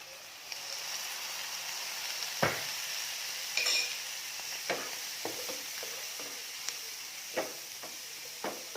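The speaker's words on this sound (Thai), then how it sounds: "จากนั้นเอามาผัดรวมกันค่ะ" Shanghai noodles with vegetarian pork are stir-fried in a pan under a constant bright sizzle. Sharp utensil scrapes and taps against the pan come every second or so, close by and with no talk.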